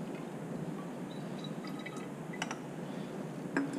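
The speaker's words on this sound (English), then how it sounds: "we put the water layer back in" Water sloshes and drips as a water layer is poured back into a glass separatory funnel in a lab, soft irregular trickles and drops, fairly faint, no talking.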